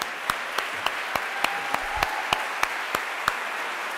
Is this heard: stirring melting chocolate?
no